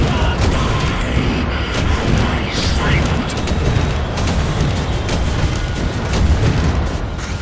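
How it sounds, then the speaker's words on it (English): Rockets explode in the video game Wolfenstein: The New Order, heavy booming blasts and gunfire layered densely and loudly throughout, with a person talking over the combat. "I hope you're liking all the rockets, Death's Head! Because I am"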